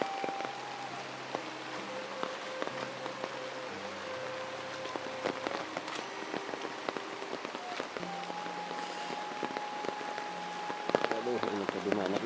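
Heavy evening rain pours down on a village, making a steady close hiss of drops on surfaces with scattered sharper taps. Faint voices and other background sounds sit low underneath the rain.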